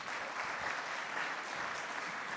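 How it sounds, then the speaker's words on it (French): Steady audience applause welcomes a guest, a continuous dense wash of clapping that holds at an even, moderately distant level throughout without talk. "Vous pouvez l'applaudir."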